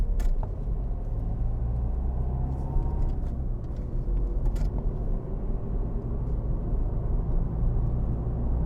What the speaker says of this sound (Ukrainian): 5 метрів проїхав, відпустив. Знову розгон.